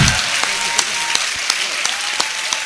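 An audience at a Hindi poetry recital breaks into steady, loud applause, a dense patter of many hands clapping with a few sharper claps standing out.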